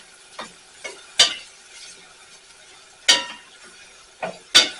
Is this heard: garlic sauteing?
yes